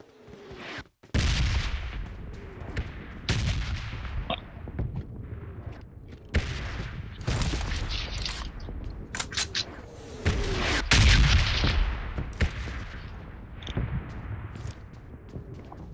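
Repeated bursts of gunfire from a video game shooter, sharp loud cracks and short rapid volleys at irregular intervals with heavy booming impacts between them.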